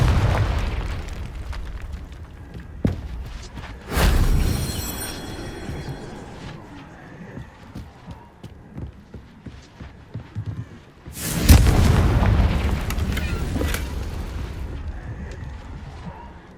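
Two heavy blasts from the Confringo fire spell in Hogwarts Legacy, each a sudden loud boom with a crackling tail, spaced several seconds apart over quieter game ambience.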